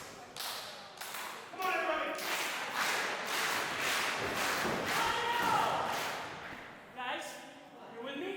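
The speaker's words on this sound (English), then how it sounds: "Stomp, stomp, clap." A wrestling crowd stomps and claps in a steady stomp-stomp-clap rhythm, the thuds and claps repeating loudly across the clip with voices chanting and shouting among them.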